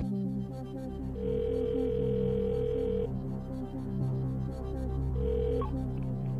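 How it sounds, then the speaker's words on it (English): A telephone call placed from a television quiz show studio in London: steady tone bursts of a ringing line, two long rings separated by a pause, under a low hum of studio background. "we'll phone David in Los Angeles."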